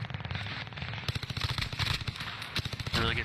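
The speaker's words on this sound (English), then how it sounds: "Oh, I love this MG42," An MG42 machine gun firing in a video game, a dense, continuous rattle of rapid shots with sharp repeated bursts, loud and close throughout with game noise behind.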